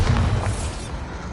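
A Bombarda blast spell in Hogwarts Legacy gives a deep, rumbling boom that swells at the start and fades into a low sustained roar.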